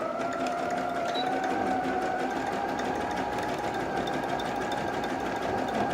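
A domestic sewing machine runs a dense zigzag stitch along the edge of a towel, a steady close mechanical whir with a fast even rhythm that holds unbroken and loud throughout.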